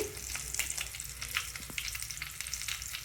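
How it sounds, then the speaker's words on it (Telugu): Garlic and dried red chillies fry in oil, a steady close crackling sizzle with scattered sharp pops and light stirring throughout, no voices over it. "ఆయిల్ కొద్దిగా తెల్లగడ్డ ఎండుమిర్చి వేసి వేయించుకోవాలి"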